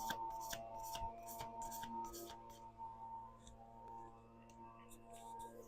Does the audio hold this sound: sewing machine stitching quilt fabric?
no